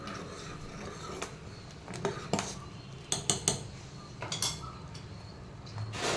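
A metal spoon clinks and scrapes against a cooking pot while ghee is added to idli sambar, with a few scattered sharp clinks clustered in the middle and end, close and moderately loud, no talking.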